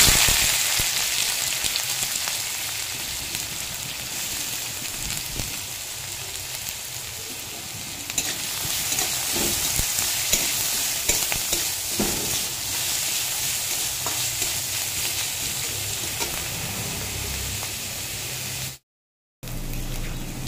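Chopped onion frying in hot white oil in a kadai already seasoned with cardamom and cloves, a steady loud sizzle and hiss that runs on without a break, with a few stirring scrapes.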